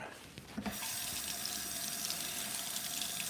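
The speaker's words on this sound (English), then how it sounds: "And just put a little bit of water in there with it." Water from a tap runs into an emptied can of chili to rinse out the sides, a steady close splashing stream that starts after a brief pause and continues to the end.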